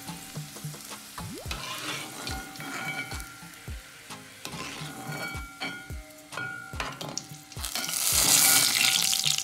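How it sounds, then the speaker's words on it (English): Liver coated in breadcrumbs deep frying in oil, a steady crackling sizzle with regular knocks and stirring clinks, growing into a louder bubbling hiss toward the end, with no voices. "it's time for me to put in my French fry liver with my breadcrumbs on it to the deep fry"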